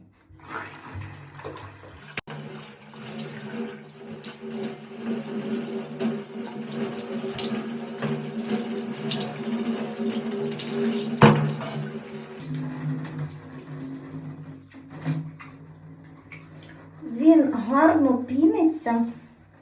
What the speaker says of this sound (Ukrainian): Намочуємо спочатку водичкою гарно волосся.